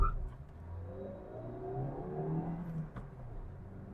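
A Maruti Suzuki Fronx accelerates from 0 to 100 km/h with the air conditioning running, its engine note rising steadily through the gears as a muted, continuous hum heard from inside the cabin.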